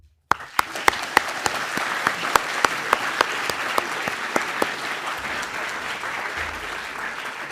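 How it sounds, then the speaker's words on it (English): A ceremony audience breaks into a full round of applause at a medical school white coat ceremony, steady dense clapping from a large crowd with a few sharper individual claps standing out, sustained throughout without speech. "please join me in giving a warm round of applause"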